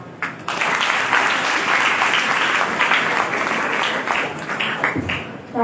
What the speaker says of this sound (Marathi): पुन्हा एकदा जोरात टाळ्यांचा कडकडाट होता.